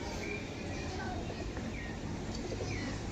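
Pigeons at a bird sale, soft low cooing calls repeating faintly under a steady background hum, with a person talking nearby.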